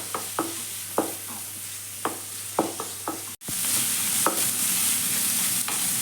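Thinly sliced onions frying over fairly high flame, a continuous close sizzle punctuated by repeated sharp spatula scrapes and taps against the pan, with a brief cut midway before the frying continues louder.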